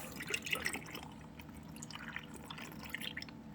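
Sea moss being rinsed in a bowl of water for a Caribbean sea moss gel, with close dripping, trickling and sloshing water as the rinse water is poured off, steady and fairly quiet with no talk.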